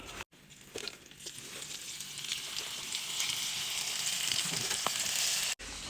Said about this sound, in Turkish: Evet bu cıs sesi gelecek arkadaşlar.